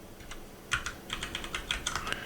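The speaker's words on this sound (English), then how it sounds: "I hear typing." Rapid typing on a computer keyboard, with irregular bursts of clicking keystrokes that start soft, then grow denser and louder, heard up close with no talking.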